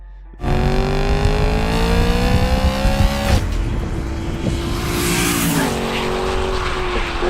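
A BMW E9X M3's S65 V8 engine wails at high revs close by, its pitch climbing steadily through the gears with brief dips between shifts, loud and continuous.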